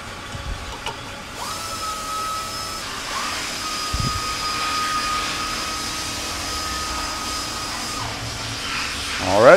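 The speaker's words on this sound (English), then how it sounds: "Alrighty, now we're ready to spin it up." A crankshaft balancing machine hums steadily as it spins up, with a faint rising tone, a brief clunk midway and a louder swell at the very end.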